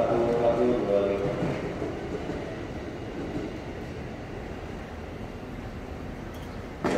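A ten-car commuter train, KA 1125 heading for Cikarang, rumbles past at a station near Manggarai in Jakarta, loud and steady throughout, with a brief squeal early on.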